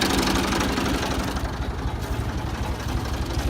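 A Ford 2000 diesel tractor engine, smoking and running on Diesel Purge, idles with a loud, close, rough, knocking chug in a steady rhythm.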